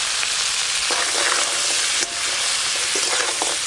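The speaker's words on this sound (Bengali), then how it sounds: "এবার কাঁকড়া আর কাঁকড়ার দাঁড়াগুলো একসঙ্গে ভালো করে ভেজে নেব" Crab pieces and claws frying in hot mustard oil with turmeric and salt, a steady close broadband sizzle with occasional scrapes of stirring, no voices.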